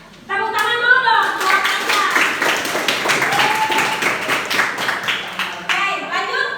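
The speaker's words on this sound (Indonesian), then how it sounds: "Tepuk tangan dulu dong." A classroom of students claps hands together in a steady, lively burst of applause that runs for several seconds, with a voice speaking briefly just before it begins.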